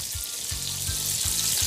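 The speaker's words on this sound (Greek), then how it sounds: "Δεν θέλω να γεμίσω όλο το τηγάνι με όλα τα φιλετάκια, γιατί μετά δεν θα τα σοτάρω, δεν θα τηγανιστούν, απλά θα βράσουν." Fish fillets sauté over high heat in a wide, hot frying pan, giving a steady close sizzle with soft rhythmic bumps of the pan or food being moved, and no talking.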